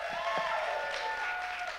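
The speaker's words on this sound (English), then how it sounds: "Everybody give them a cheer." A church congregation applauds and cheers together, a steady wash of clapping and raised voices with a few sustained vocal tones, held at an even level throughout.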